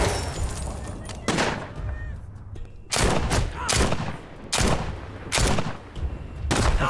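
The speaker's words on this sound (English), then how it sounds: "Yeah, I'm getting shot all the time." Gunfire in the VR zombie game The Walking Dead Saints and Sinners comes as a string of loud, close bursts of shots, roughly seven or eight volleys spaced about a second apart, over a murky background din.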